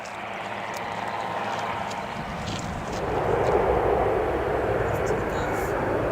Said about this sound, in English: It's a fairly small plane actually.